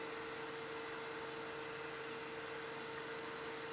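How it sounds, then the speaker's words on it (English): A wood lathe runs at high turning speed, around 3000 rpm or more, while a pen blank is friction-polished, giving a steady whirring drone with a constant tone, close and uninterrupted throughout. "now that we're polishing, we want to bring our lathe speed back up to our turning speed"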